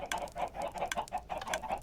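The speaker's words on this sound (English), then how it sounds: "capturing the game sounds, like the chickens clucking" Chickens clucking in the video game Minecraft, a run of short, repeated game-sound clucks in a steady, bouncy rhythm, fairly close and alone without talk.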